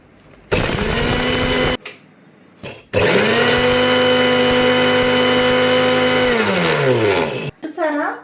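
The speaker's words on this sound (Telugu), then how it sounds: "ఫ్రై చేసుకున్న దినుసులను ఇలా మిక్సర్ గ్రైండర్లో వేసుకొని మంచిగా పౌడర్ చేసుకోవాలి" A mixer grinder powders fried spices in a short burst, then a brief blip, then a long, loud, steady motor whir that stops abruptly.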